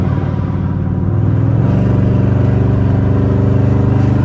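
A tuned AWD Chrysler 300 with a HEMI engine rumbles at night under light throttle, its low drone rising in pitch and loudness after a moment and holding a continuous accelerating tone, close and steady.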